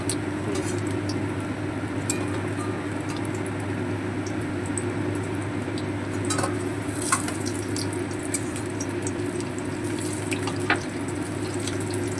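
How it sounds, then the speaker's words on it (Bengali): Steady, close hissing of flower fritters frying in hot oil, with scattered small pops and crackles throughout and no talking. "বাকি বড়াগুলো লাল করে ভেজে নেব"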